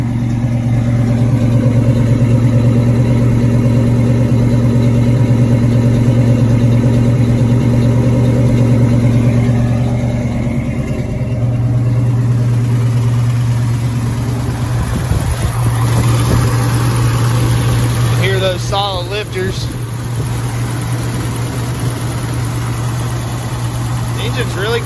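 A 1971 Ford Boss 351 with a 4-speed, a freshly installed new exhaust and factory exhaust manifolds idles steadily and smoothly, a continuous loud low engine drone throughout with a slight shift in tone partway, people talking over it.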